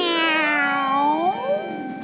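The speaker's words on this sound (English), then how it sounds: "Is it a cat?" A single drawn-out cat meow sounds close and loud, sliding down and then rising in pitch over about two seconds.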